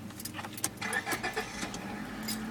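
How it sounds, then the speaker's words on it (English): A Nissan 280ZX starts from cold: keys jingle, then the starter cranks and the engine catches into a low, steady idle, faint and somewhat distant. "So here's when I start it."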